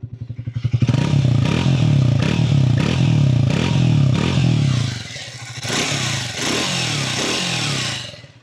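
A Triumph Speed T4 motorcycle exhaust thumps loudly and close by, a steady pulsing rumble that settles briefly around the five-second mark and then carries on.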